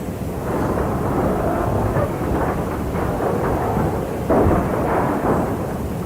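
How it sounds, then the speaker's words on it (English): A storm in Bayburt roars with a constant, heavy, broadband rumble of wind, its force strong enough to tear a building's roof off; the loud gusting stays steady, with brief swells near the end and no voices. "During a storm in Bayburt, the roof of a building was blown off"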